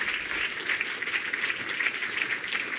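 A conference audience at a software testing talk applauds steadily, with crisp, dense clapping that holds an even level throughout and no voices over it.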